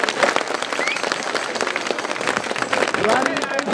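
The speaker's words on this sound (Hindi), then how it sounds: "एक बार उन साथियों के लिए जोरदार अभिनंदन और तालियां।" Crowd at a Delhi rally over pension restoration breaking into dense, sustained clapping, loud and close, with scattered shouts and voices mixed through the applause.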